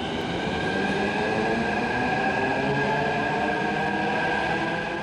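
A Hyderabad metro train runs on the Miyapur–Kukatpally line, giving a continuous loud rumble with a steady tonal whine and faint wheel noise, with no voices.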